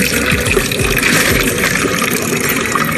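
Close, loud rush and splash of drinkable water pouring continuously from a public fountain, with a steady gushing texture and no talking over it.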